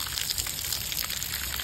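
A garden hose sprays gentle, direct pressure onto a tree's trunk and bark, giving a close, steady hiss of water with scattered splashes and patters.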